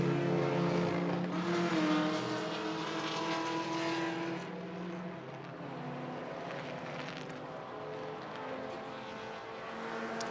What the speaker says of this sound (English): there's James Hay in the first of the Volkswagen Scirocco's